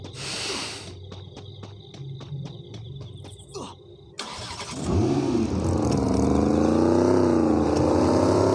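Car engine in a Hindi-language multiplayer video game, starting up and revving loudly with rising and falling pitch after a stretch of quieter game sounds with chirping tones.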